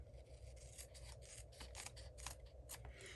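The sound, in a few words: scissors cutting designer paper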